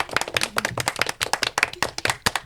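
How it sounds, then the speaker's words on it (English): A small audience at a Peter Pan panto podcast claps close by, with distinct, uneven slaps of several hands in a quick, lively patter. "Give yourselves a round of applause."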